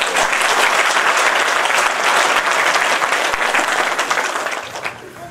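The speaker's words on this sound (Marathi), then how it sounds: "एकदा जोरदार टाळ्या." An audience at a felicitation ceremony for successful farmer groups breaks into strong, sustained applause, a dense wash of clapping that holds steady before fading toward the end.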